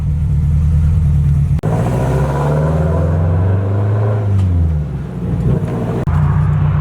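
Garage-built Subaru STi with an AVCS fault revving up as it drives off, a loud, close engine note rising and falling through several gear pulls, with no talk over it.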